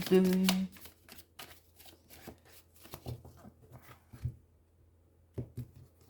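Tarot cards are shuffled up close in a series of soft, rapid riffles and slaps, opening with a short spoken phrase before the shuffling carries on mostly alone.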